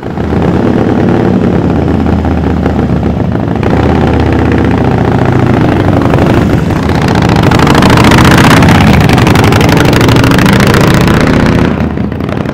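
A 2016 Harley-Davidson 48 fitted with Vance & Hines exhaust runs steadily, its loud, deep engine rumble holding close and constant with no talk over it.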